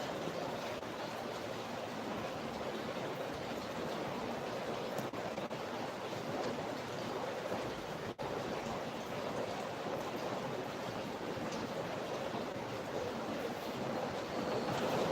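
Steady rain pours down outdoors in a continuous broadband hiss, loud and even throughout, with one brief sharp tick near the middle and no voices.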